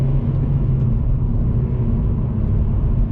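A manual car's engine rumbles steadily from inside the cabin while it is driven hard through corners. The low drone stays loud and even, with no distinct break for the gear change.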